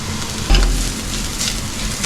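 Ginger garlic paste and onions sautéing in a hot pan for butter chicken, a dense close sizzle that runs steadily with a slightly louder burst near the start.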